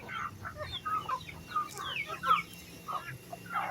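Native Bisaya chickens cluck repeatedly while being fed, a busy scatter of short clucks and calls at moderate distance, with faint background noise and no talk.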